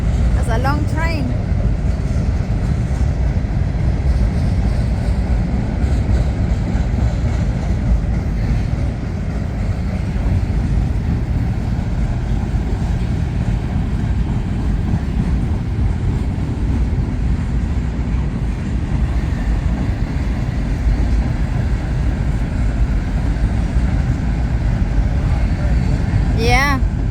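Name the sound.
long train passing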